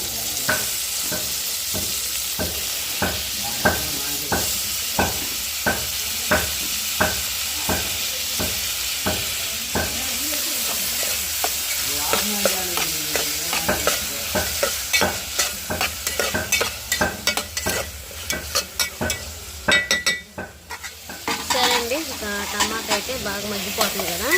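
Tomatoes stir and fry in a pan with a steady sizzle, broken by a regular run of scraping strokes from a spoon against the pan, close and fairly loud, with no talk over it.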